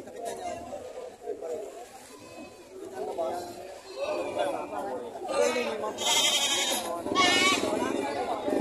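Goats bleat in a livestock setting in Padre Garcia, Batangas, with several loud wavering calls toward the end over steady background chatter and people talking nearby.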